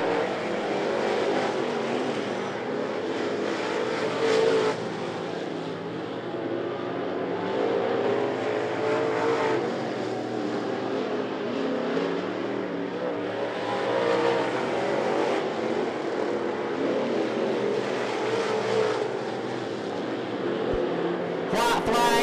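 Race cars roar down the back straightaway at I-75 Raceway, a continuous loud engine drone that swells and fades as cars pass, with an announcer calling the race over the engines throughout.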